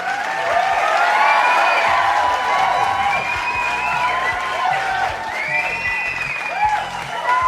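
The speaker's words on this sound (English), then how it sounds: "Please do give Katie a huge round of applause." A live audience at a festival talk gives a sustained, loud round of applause with scattered cheers and whoops, dense clapping filling the whole stretch at a steady level.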